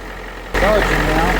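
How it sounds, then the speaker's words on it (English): A truck called Big Red, starting for the first time in four weeks during alternator and regulator checks, cranks and catches after a short quiet stretch, then settles into a loud, steady, close idle. "Start the truck and watch the meter."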